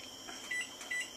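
A kitchen timer gives two short, faint electronic beeps as it is set, heard alone in a quiet room.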